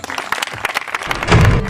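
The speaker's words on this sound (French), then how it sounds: "Acclamons pour Chad." Church service congregation clapping and cheering, dense crowd applause swelling louder toward the end, with a low rumble underneath.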